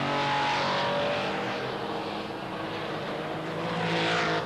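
Porsche race cars howl past at Zandvoort circuit in a Porsche–Ferrari challenge race, a loud continuous engine roar that swells and fades as the cars pass close by, with no talking.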